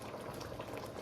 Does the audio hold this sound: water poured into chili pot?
yes